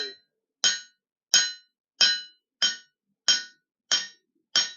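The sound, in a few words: beveling a handmade knife edge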